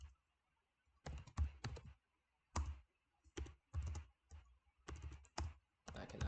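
Computer keyboard typing comes in short irregular bursts of quick clicks separated by brief pauses, close and fairly quiet, with no talking heard.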